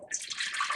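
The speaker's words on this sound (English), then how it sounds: "We're going to pour our liquid" Liquid ingredients pour into a pot on a stove, giving a brief close splashing, gurgling stream with no talking.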